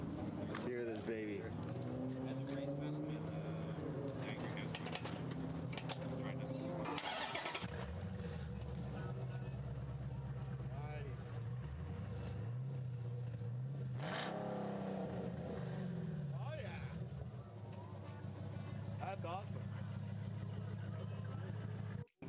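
A 6.4 Hemi V8 fitted with a Black Widow exhaust revs repeatedly, deep rumbling swells rising and falling close by, with people talking over the engine noise throughout.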